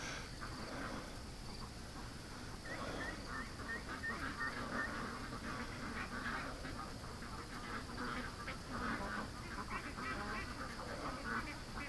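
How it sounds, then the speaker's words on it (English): Ducks in a pen during a coyote scare, a constant agitated mass of honking and quacking from many birds at close range, continuous for the whole stretch. "I know the ducks were freaking out at this end of the pen"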